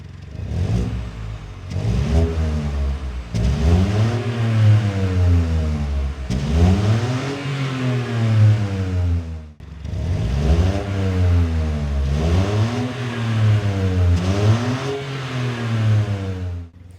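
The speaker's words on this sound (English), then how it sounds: "It's powered by a 3-cylinder turbocharged petrol engine" A BMW 218i's 3-cylinder turbocharged petrol engine revs repeatedly, pitch climbing and falling in rising sweeps, loud and close, with a brief dip before revving resumes.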